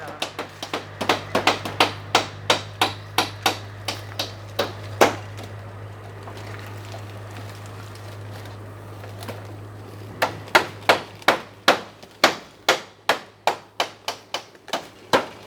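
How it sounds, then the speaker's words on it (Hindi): Nails are hammered into bamboo mats laid over a hut roof, a run of sharp, evenly spaced taps, then a quiet stretch with a low hum, then another quick burst of blows. "बस उनको ऐसे बिछा के छप्पर के ऊपर बिछा के बीच बीच में कील ठोकते जा रहे हैं"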